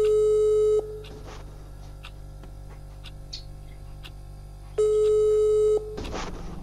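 A telephone busy signal during a call attempt: two loud bursts of a steady electronic tone, the first at the start and the second near the end, separated by a quieter stretch of line noise and faint clicks.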